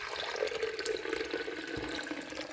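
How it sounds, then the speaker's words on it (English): Filtered Brita water pours steadily from a tap or jug for coffee, a continuous close splashing stream throughout. "let me just prep my boiling water"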